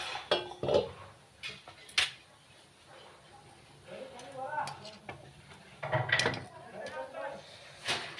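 Rava appe, small semolina dumplings, are lifted out of the appe pan onto a plate with metallic clinks, scrapes and knocks spread irregularly, with a voice faintly present at times.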